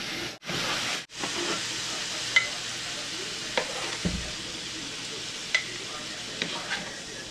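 Pancit noodles sizzle and hiss steadily as they are stir-fried in a pan, with occasional scrape and clink of a utensil stirring, close and continuous throughout.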